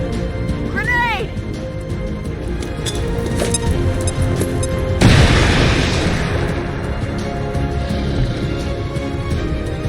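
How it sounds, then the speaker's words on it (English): A grenade goes off in the video game XCOM 2: one loud, sudden boom with a rumbling tail midway, amid game sounds, a short whistling chirp and a voice talking. "Grenade!"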